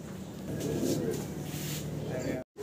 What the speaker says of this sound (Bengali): এক এক করে আমার দর্শকদের কবুতরগুলো দেখাই।